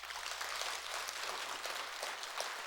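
Clapping from a congregation at a Buddhist Sunday dharma service, a steady dense wash of many hands that holds evenly for a few seconds, fairly distant and alone without voices.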